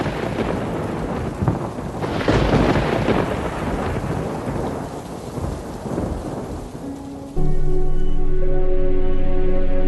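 Deep rolling thunder over steady heavy rain during a storm above the ocean, rumbling loud and close for most of the stretch before the rumble fades out near the end.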